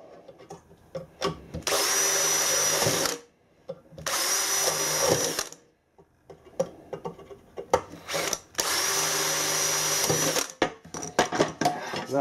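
A power drill whines at high speed in three long bursts, chain-drilling a crack in an alloy engine sump, pausing between them, with clanks and scraping of metal in the gaps.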